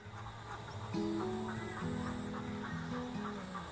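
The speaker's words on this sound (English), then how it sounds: "The ducks wake and start quacking," Ducks quacking close by, several loud overlapping calls over a low steady background hum.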